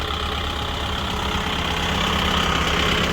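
A Mahindra-style 5502 tractor engine runs steadily with the 540 PTO engaged, a dense continuous low rumble with a knocking, throbbing idle character, loud and close, holding level throughout with no talk.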